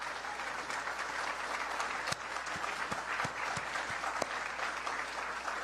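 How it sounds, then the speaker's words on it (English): A political rally crowd at a tax cuts event applauds steadily, broad clapping at a constant level with a few sharper nearby claps standing out. "And give yourselves a round of applause."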